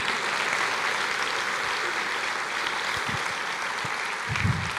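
Church congregation applauding during a sermon, a steady broad wash of clapping that holds for the whole stretch at a fairly constant level, close and filling the room.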